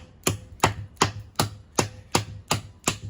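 A NedFoss Black Phoenix survival knife chops into pine wood with eight sharp, evenly spaced thwacks, close and crisp, with short pauses between strikes.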